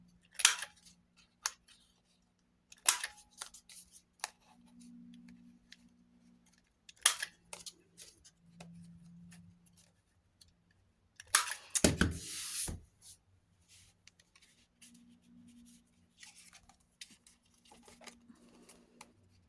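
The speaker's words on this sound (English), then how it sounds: "With my nice new blade. And I might just cut those corners." Quick crisp snips of a fresh craft blade trimming paper corners, coming in short separate bursts with quiet gaps between them, with one louder cut near the middle, close and fairly soft.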